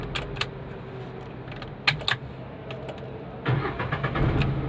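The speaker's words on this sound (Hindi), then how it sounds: "तो गाड़ी को स्टार्ट करेंगे और चेक करेंगे अगेन कि मेरा आवाज़ कर रहा है कि नहीं कर रहा।" A Renault Kwid engine starting after a damaged silencer was repaired: a few light clicks and key jingles come first, then the starter catches at the end and settles into a smooth, quiet idle, close by with no talk.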